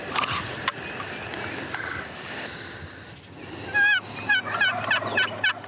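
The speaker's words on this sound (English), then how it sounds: "a strong gobble puts the pair in hunt mode" A wild turkey tom gobbles in spring woods, a burst of rapid warbling gobbles repeating over the last couple of seconds at moderate distance, after a stretch of outdoor rustling.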